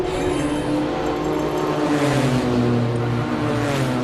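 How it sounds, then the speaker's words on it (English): A loud race car at the Simola hill climb roars past, its engine note droning steadily and shifting in pitch as it climbs, heard alone and at moderate distance. "Sure, that's a loud car."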